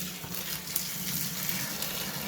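Just-off-boil water, about 1.6 litres, pours steadily into liquid malt extract for a home-brew beer kit, giving a continuous close gushing, splashing wash with no talking.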